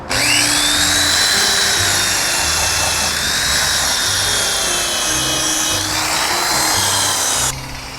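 An electric polishing machine buffs the plastic lens of a Honda CR-V Gen4 headlight, giving a loud, steady whine with a rough rubbing grind that runs without a break and then drops off near the end.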